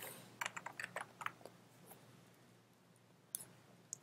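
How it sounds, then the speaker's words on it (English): Login details are typed on a computer keyboard in a quiet room, with a fast burst of light key clicks, a pause, then a few more isolated taps. "So I'm going to go ahead and type that in."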